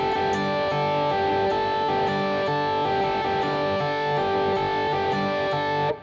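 Electric guitar played open, with no palm muting and no squeeze-and-release, chords ringing continuously in a dense wash, regular strums underneath, near and steady, without speech.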